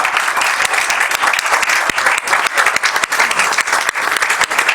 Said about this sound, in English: let's give ourselves a round of applause for reaching this incredible milestone